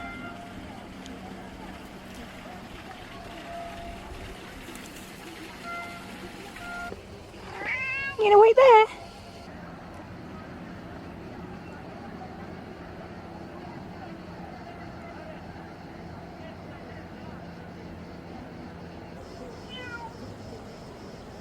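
A cat gives a couple of short, loud meows in the middle, while a person speaks softly and faint traffic hums in the background in Positano, Italy.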